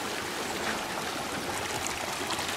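Water of a hillside stream flows and trickles in a steady, close, broadband wash, with no talk over it.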